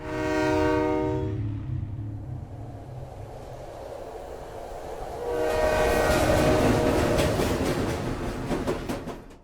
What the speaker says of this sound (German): Gleichzeitig hört man einen Zug,